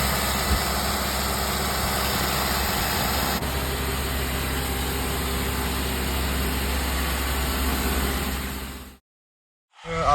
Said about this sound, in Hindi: जब ये 2000 पे चलती है तो इंजन काफ़ी तेज़ आवाज़ करता है